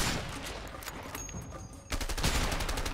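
Rapid bursts of video game gunfire in A Way Out, dense close shots that pause briefly and then resume louder, with no talk.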